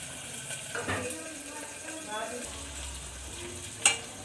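Onions and green chillies fry in a pan in a home kitchen, giving a soft continuous sizzle with stirring scrapes and a sharp metallic clink near the end, and someone speaks quietly nearby.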